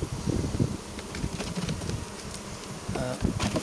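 Swarm of honeybees flying around an apiary hive on a fine day, a steady dense buzz of many wings close by with some wind noise over the microphone.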